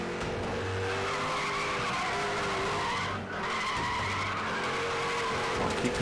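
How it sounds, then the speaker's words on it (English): A car in the racing game Need for Speed The Run drifts through a slide, its tires skidding and squealing loudly over the steady drone of a revving engine, with a brief dip midway and no talk. "Keep control of the car through the slide,"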